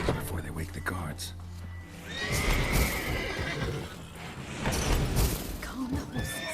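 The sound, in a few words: horses neighing in stable, The Witcher 3 video game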